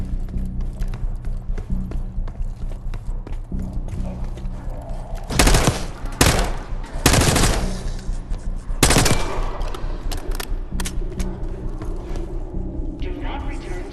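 Gunfire in the Call of Duty Black Ops 6 game rattles in dense bursts from lower floors of a building, with several sharper loud volleys standing out over a continuous noisy background.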